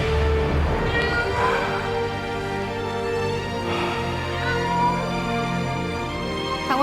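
A cat meows in several drawn-out, wavering cries, loud and close, set against a sustained musical backdrop.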